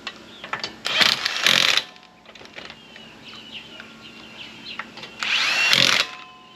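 A power tool tightens lug nuts on a car wheel in short, loud bursts of a few seconds each, separated by quieter gaps as the tool moves between nuts.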